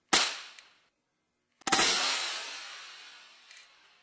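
Two sharp shots from a Kel-Tec P17 pistol firing subsonic rounds, each a loud crack with a ringing decay, spaced about a second and a half apart, with a faint click near the end.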